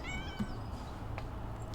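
A cat meows in PowerWash Simulator 2, a few thin rising and falling calls at moderate level over a steady low background hum, with no talking.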